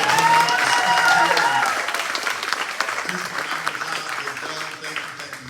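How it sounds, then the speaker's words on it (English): A crowd applauds students at a community event, with steady clapping that starts strong and gradually tapers off over a few seconds, some voices faintly audible underneath. "Can we give our students a big round of applause for being able to stand"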